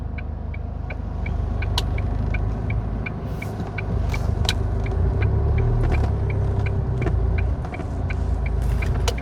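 A car rumbles steadily along a road in Thailand while turning around, a continuous engine and road drone with faint regular ticking throughout and no talking.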